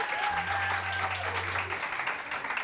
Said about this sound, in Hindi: तालियां आप सबके लिए भी, बहुत सारी तालियां।